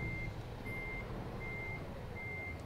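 Reversing beeps from a truck in American Truck Simulator, a steady series of four evenly spaced high electronic tones over a low engine rumble, with no talking.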